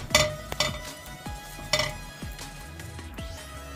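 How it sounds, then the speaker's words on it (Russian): A metal frying pan is set down on a stove and greased with oil, giving loud ringing metallic clanks and scrapes at the start, then lighter clinks and scraping strokes spaced through the rest. "Сейчас ставлю сковородку и буду обжаривать тонкие лепешечки."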